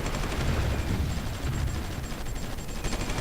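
Bombardment and gunfire in the strategy game Supreme Ruler 2020 form a dense rumbling barrage of booms and crackling shots, continuous and heavy.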